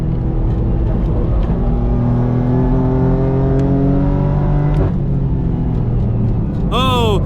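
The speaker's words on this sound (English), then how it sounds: "The Manthey GT3 RS is pulling further and further away." A Manthey Racing Porsche GT3 RS engine roars loud and close during a race, its pitch climbing steadily through the rev range before a sharp shift, with a voice commenting over it.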